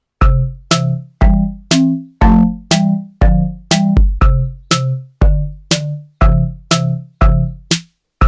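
A bright synthesized melody from Chrome Music Lab, plucky, bell-like notes with quick decays, played one after another in a steady, moderate rhythm.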